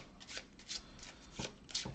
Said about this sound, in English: So we take our bronze deck here. Give it a quick shuffle.